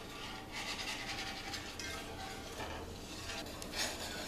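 Peppered gravy simmers and bubbles in a pan with a continuous soft sizzle and light stirring scrapes, steady and close throughout.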